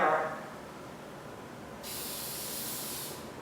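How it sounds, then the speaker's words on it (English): Toner aid is sprayed from an aerosol can onto artwork on vellum: a short hiss opens, then after a pause a longer, steady close spray hiss runs for over a second before cutting off. "I'm going to spray it over here"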